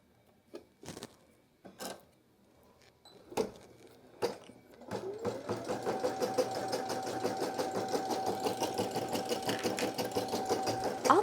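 A Brother PE800 embroidery machine starts stitching after a few sharp clicks and knocks, then settles into a steady, close, fast mechanical whir with even rapid needle beats running to the end.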